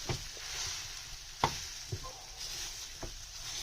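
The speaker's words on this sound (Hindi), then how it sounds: "अब हम पोटैटो मैशर लेंगे, उससे इसको अच्छे से मैश करेंगे।" A potato masher works through spiced potato sandwich stuffing, giving a few soft, quiet squelching thuds spaced irregularly against a faint background hiss.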